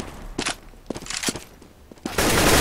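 Gunfire in a competitive tactical shooter video game match, with scattered sharp shots and short bursts, some near and some farther off, ending in a louder sustained burst of noise.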